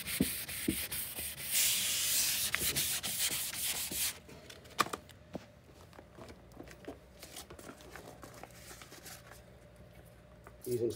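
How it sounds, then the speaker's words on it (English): Wet sanding with fine P600 wet and dry paper gives a rhythmic rubbing scrape, louder at first and then softer and intermittent, close to the microphone. "So I'm now using P600 wet and dry paper."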